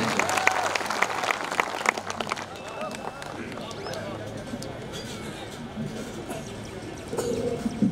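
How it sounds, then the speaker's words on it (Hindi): Clapping breaks out at a Hindi poetry gathering in Bajpur as a poet is welcomed, loud at first and then fading into crowd murmur and talk. "आपकी जोरदार तालियों के बीच सुरेंद्र जैन जी।"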